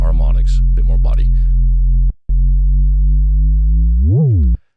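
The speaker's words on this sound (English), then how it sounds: "the sine goes through a distortion, giving it a bit more harmonics, a bit more body." A sine tone synthesized in Phase Plant and pushed through distortion for a wormhole traversal effect drones steadily with rich harmonics. It drops out briefly near the middle, then bends up and back down in pitch before cutting off, with talking over its opening.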